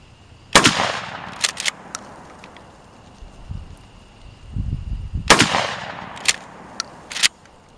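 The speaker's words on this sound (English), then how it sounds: "Let's pump a couple of slugs into those bastards." A Mossberg 500 pump shotgun fires slugs at pumpkins outdoors, with two sharp loud reports several seconds apart, each followed by fainter clicks and clatter of handling.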